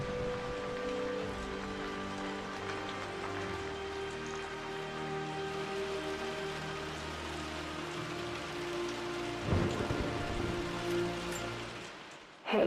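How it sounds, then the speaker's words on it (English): Indoor rain in the video game Rise of the Tomb Raider, falling inside a ruined manor: a steady, dense patter and hiss that runs unbroken throughout, with a low tonal drone underneath and a brief louder splash near the end. "It's raining inside it."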